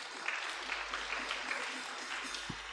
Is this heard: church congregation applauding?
yes